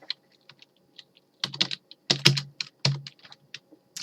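Keys clack on a computer keyboard in quick irregular bursts, close and crisp, with short pauses between clusters of strokes and no voices.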